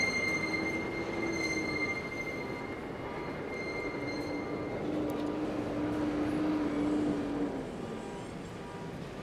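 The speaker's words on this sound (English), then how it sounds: "Via rail train making its way to Union Station." A Via Rail passenger train rumbles past at a moderate distance in Toronto, steady wheel roar with faint metallic squealing and a sustained horn-like tone.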